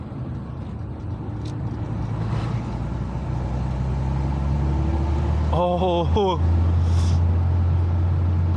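A car passes close by on a road, its engine rumble swelling and then steady, with a brief voice over the top and the low drone of a Porsche 911 rally car's cabin beneath.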